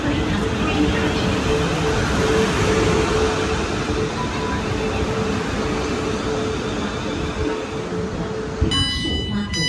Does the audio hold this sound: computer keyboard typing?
no